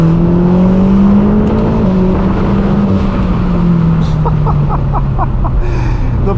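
BMW M8 Competition, tuned to about 800 hp with a loud exhaust, heard from inside: a continuous engine drone holding steady then easing slightly in pitch, with faint clicks and tonal chirps near the end and no talking.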